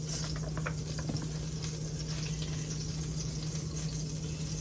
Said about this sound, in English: as you guys can hear, the butter is getting hot.